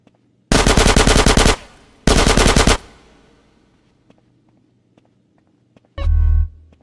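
Automatic gunfire in GTA Trilogy Definitive Edition: two loud sustained machine-gun bursts close together, then quiet with a few faint ticks, and a short heavy burst near the end.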